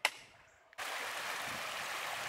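A flowing Kentucky creek babbles steadily, a soft continuous rush of water that fills in suddenly after a brief click and a moment of near quiet.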